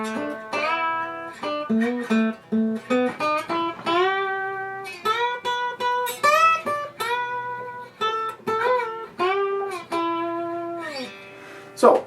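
Guitar played with right-hand finger muting, a clear run of short plucked notes and chords at steady volume, close and alone with no talking.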